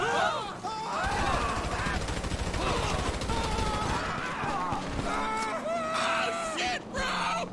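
Dense video game gunfire in a bursting, rapid-fire barrage that fills the whole span, loud and busy, with shouts and talk mixed into the chaos.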